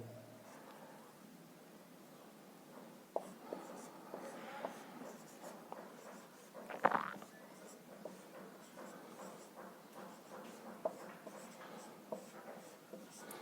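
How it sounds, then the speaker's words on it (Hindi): Pen writing digits on paper, a soft scratchy scribbling that comes in short strokes with brief pauses, quiet and close, with no talking over it. "हमने अंक लिख दिया।"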